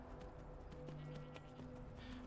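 A horse in the Skyrim video game clip-clops along with hoof beats under a steady game ambience, and a brief whinny-like tonal cry rises partway through, all fairly faint.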